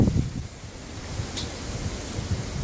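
Warm, humid wind blowing outdoors ahead of the remnants of Hurricane Michael, a steady low rumble of gusts buffeting the microphone with no voices.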